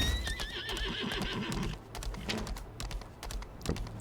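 A horse neighs in the Lost Ark video game, a bright whinny at the start followed by clip-clop hoofbeats and scattered clicking, all fairly quiet.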